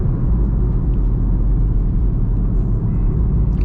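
A Chevrolet Camaro SS engine rumbles from inside the cabin while driving: a loud, steady low drone with no break and no talking.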